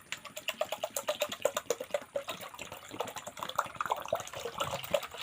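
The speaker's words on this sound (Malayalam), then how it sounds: "അര ലിറ്ററിൻ്റെ വിനാഗിരിയാണ് അത് മുഴുവൻ നമ്മൾ ഒഴിക്കാൻ പോകണേ" Vinegar pours steadily onto salt in a container, a bubbling, gurgling stream with rapid irregular splashes that softens toward the end.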